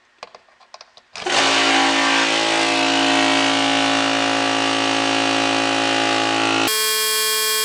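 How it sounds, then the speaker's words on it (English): An air compressor's small engine starts after a few brief taps and then runs at a steady, loud drone before its pitch changes near the end. "I'm just going to, do the old small engine demo."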